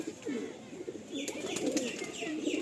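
Punjab Malbai pigeons coo softly in low, rolling murmurs at close range, with faint chirps and scattered clicks in the background.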